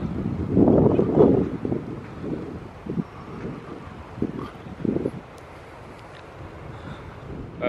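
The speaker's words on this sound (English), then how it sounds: "It's a little wind picking up a little bit." Wind gusting across the microphone on Miami Beach, a warm breeze producing loud low buffeting bursts that rise and fall, strongest at the start and fading to a softer rush.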